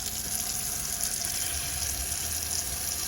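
Water running from a tap on a Sterling Eccles Wayfarer caravan, drawn by the onboard water pump, a steady gushing flow with a faint hum beneath it, continuous and close.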